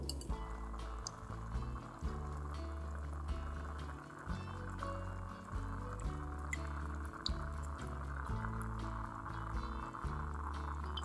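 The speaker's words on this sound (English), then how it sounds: "pour the egg mixture through a sieve into the plate" An egg mixture pours through a sieve onto a plate, a continuous close liquid trickling and dripping with small splashes, steady over about eleven seconds.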